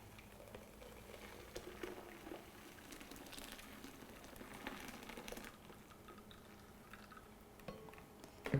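Homemade almond milk poured into a nut milk bag, a soft, quiet liquid trickle and patter with faint handling sounds, steady for several seconds with no speech.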